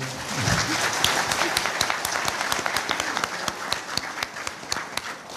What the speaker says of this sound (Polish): to te oklaski są dla Państwa